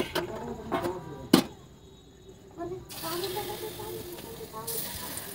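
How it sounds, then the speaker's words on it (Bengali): Gram flour (besan) frying in hot oil: a voice and a few clinks come first, then a steady, close, bright sizzle and hiss swells up and carries on to the end. "এখন বেসন ভাজবো"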